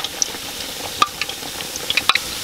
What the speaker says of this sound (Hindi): तो कुकिंग ऑयल गर्म हो चुका है जी, डालें। तो फ्राई कर लेंगे अजूक को